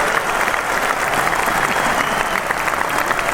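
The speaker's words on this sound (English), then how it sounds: "we're going to give her the super applause for tuning in" Applause from a studio audience or radio crowd, dense and continuous clapping at a steady level with no pauses and no talking over it.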